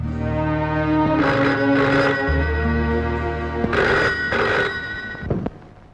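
An old telephone bell rings loudly in two double bursts, with a steady tone underneath that shifts partway through.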